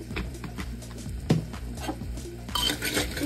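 Vegetables coated in masala, with red chilli, are stirred in a pan for sambar-style semolina sandwich idli, giving a steady scrape and clatter of a spoon against metal with soft knocks and light sizzling underneath.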